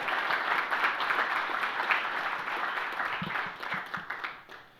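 A large audience at a city's State of the City address gives sustained, dense applause that holds strong for several seconds before thinning and fading toward the end.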